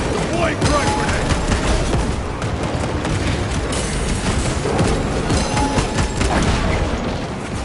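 Combat in Warhammer 40,000: Space Marine 2, a dense continuous barrage of booms and gunfire with a frag grenade blast somewhere in the din, loud and unbroken, with speech over the top.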